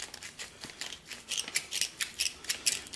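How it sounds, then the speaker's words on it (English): A Lee case trimmer deburrs the mouth of a .38 brass case, giving a quick run of close, crisp scraping and snipping strokes in a rapid, uneven rhythm. "you're going to take your case trimmer like so, deburr it a little bit."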